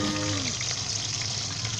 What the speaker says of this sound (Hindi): और 1 मिनट के लिए अच्छा फ्राई करेंगे हम